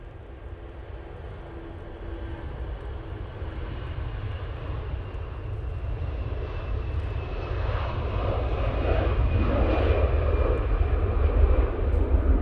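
An airliner takes off at Manchester Airport, a steady roaring jet engine rumble that builds gradually in loudness over several seconds, heard alone without talk.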